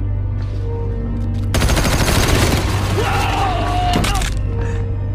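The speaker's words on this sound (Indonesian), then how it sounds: "lalu memberondongnya dengan tembakan" A sudden, loud burst of rapid gunfire erupts after a quiet moment, rattling on for a couple of seconds before tapering off, followed by a sharp crack.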